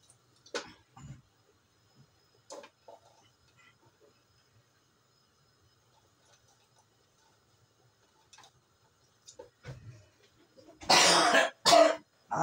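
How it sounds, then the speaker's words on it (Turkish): A person in a kitchen coughs and clears their throat in scattered short bursts across a mostly quiet stretch, ending in a louder, harsher run of coughs near the end. "Sanki videoyu bekliyor öksürüyor"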